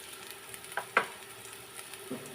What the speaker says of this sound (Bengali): তারপর আদা রসুনের পেস্ট এক চা চামচ দিয়ে দিছি দিয়ে এখন এটি একটু তেলে একটু ভাজি ভাজি করে নিতে হবে